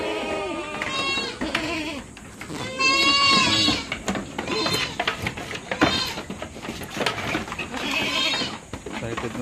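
Several goats bleat repeatedly as they are let out on a farm during a dry, hot season, loud and close, their overlapping cries coming in bursts with a person speaking at times.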